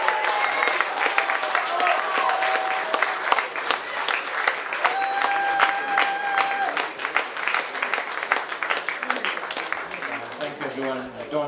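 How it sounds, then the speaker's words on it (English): A crowd at a Rhino Charge 2019 event in Nannapa Conservancy applauds the winning team, with dense sustained clapping throughout and a voice speaking over it at times. "Give a huge round of applause."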